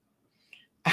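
A held-in sneeze, stifled and squeaky like a small cat's, bursts out loud and close at the very end after a faint breathy catch.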